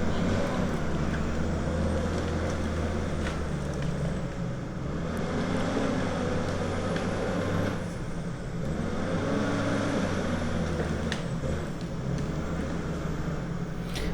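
A log skidder climbs a hill during timber thinning work, its diesel engine droning at a moderate distance, with the pitch rising and falling as the machine labours up the slope.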